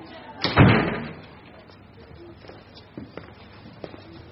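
A door slams shut hard and close in an indoor room, one heavy thud that decays into a quiet room tone with a few faint knocks and shuffles afterward.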